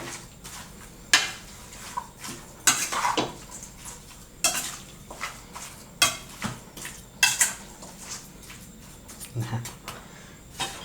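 Steamed chicken pieces are tossed and mixed with onion and kaffir lime leaves in a bowl, giving repeated scraping, clinking and wet clattering sounds at an uneven rhythm, with someone talking intermittently over the work.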